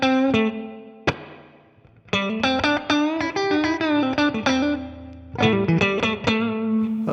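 An electric guitar played through a spring reverb model on an IK Multimedia TONEX plays plucked single notes and short chord phrases with ringing, splashy tails, close and clear, without talk.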